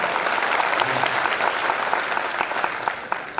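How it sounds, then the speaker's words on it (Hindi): An audience at a Hindi poetry recital in Banswara breaks into loud, sustained applause, many hands clapping densely at close range, thinning a little near the end. "आपकी तालियां जो किश्त में आ रही है ना, इसको एक मुश्त मुझे दीजिए, जोरदार दो"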